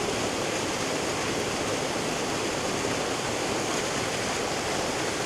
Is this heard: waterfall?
yes